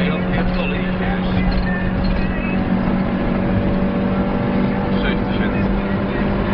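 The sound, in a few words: car engine revving hard to high rpm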